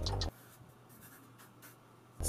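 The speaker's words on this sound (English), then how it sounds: "Push my pencil." A pencil scratches across a paper pad in a long, continuous writing stroke, quiet and close, framed by brief louder sounds at the start and end.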